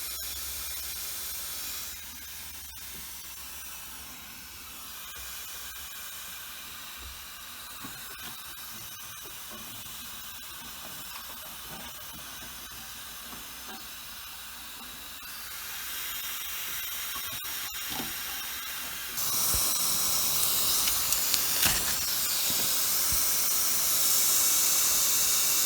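Refrigerant freon escaping from a leaking Carrier heat pump during an ECM diagnostic: a steady, broad hiss runs throughout and grows louder and harsher toward the end, with small ticks and knocks nearby.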